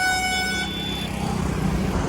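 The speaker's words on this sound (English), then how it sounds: "one thing that doesn't change is the honking" Vehicle horns honk repeatedly in busy road traffic near the India–Nepal border, with steady tonal blasts up front followed by several overlapping honks over a loud traffic rumble.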